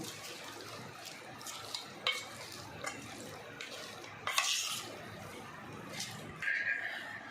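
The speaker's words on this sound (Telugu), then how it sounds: "ఇప్పుడు దీంట్లో చల్లార్చుకున్న ఆయిల్ వేసుకుందామండి ఫ్రెండ్స్ నేను కలుపుకుందామండి ఇప్పుడు" Grated raw mango pickle being stirred together with cooled oil in a bowl, producing soft scraping and light clinks of a spoon against the vessel, a steady close mixing sound with occasional sharper taps.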